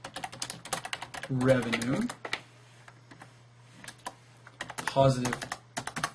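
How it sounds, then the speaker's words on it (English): Quick bursts of typing clatter on a computer keyboard, crisp close key taps in short runs, while a person talks briefly in between over a faint steady hum. "I'm typing cash"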